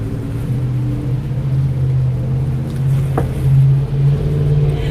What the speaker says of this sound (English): I know you can hear all those trucks passing